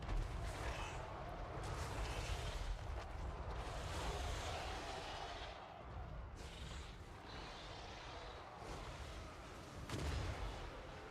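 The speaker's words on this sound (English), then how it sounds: "Some of the cannons are still making their fire known." Cannons fire during a Total War: Warhammer III battle, dull booms within a dense, continuous roar of battle noise that swells and dips throughout.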